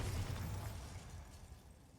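A Bombarda spell explosion in a Harry Potter video game, one muffled, rumbling blast that fades away over about two seconds, heard alone.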